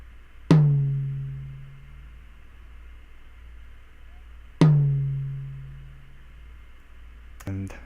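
A tom drum on an Optimount mount set halfway between lug and rim is struck twice, several seconds apart. Each hit rings out with a resonant, slowly fading tone, and a faint click follows at the end.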